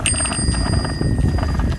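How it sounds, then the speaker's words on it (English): A bicycle bell rings in a few quick bright dings near the start, then fades under a low, rumbling background for the remainder. "My bicycle bell fetish."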